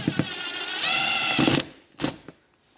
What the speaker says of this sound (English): Now we got all five of our screws in there with our wall anchors